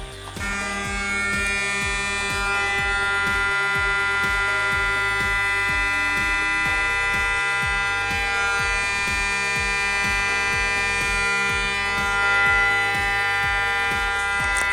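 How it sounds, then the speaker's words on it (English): A 200 Hz test tone plays through a speaker as a loud, constant buzzing hum layered over background music, unbroken for the whole stretch, with no voices. "Okay, now 200 Hertz."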